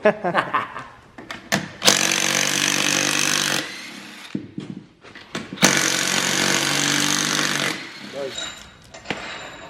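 Pneumatic impact wrench run at about 80 psi to zip the cylinder head nuts off a Honda engine, two long loud buzzing bursts of roughly two seconds each with short clanks and workshop noise between them.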